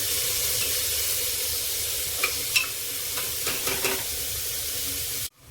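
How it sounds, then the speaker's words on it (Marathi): Onion fries in a pan until golden brown, giving a loud, steady sizzle and hiss close by, with a few brief scraping stirs near the end and no talking. "हा कांदा आपला गोल्डन ब्राऊन होईपर्यंतच भाजायचा, जास्त करपवायचा नाही."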